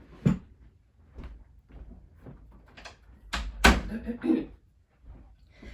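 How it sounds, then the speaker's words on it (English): A door shut indoors, giving a short knock and thud amid faint shuffling and low room noise, with a brief murmur of voices. "Hey, just a second. I got to shut my door."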